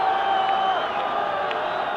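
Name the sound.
rugby match crowd cheering excitedly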